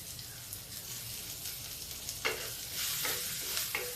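Radish greens fry in a pan with turmeric powder, giving a soft steady sizzle with a few sharper stirring scrapes and crackles toward the end; no talking.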